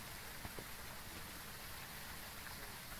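Steady rain pours in the Phasmophobia ghost-hunting game at Tanglewood Drive, a dense, even hiss with a few faint drips and taps, quiet and continuous with no talking.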